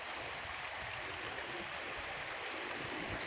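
Flood water rushes through a street in a continuous, even wash of noise that stays close and fairly loud, with no voices.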